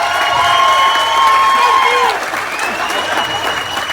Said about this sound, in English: please give Manuel one more big Portuguese round of applause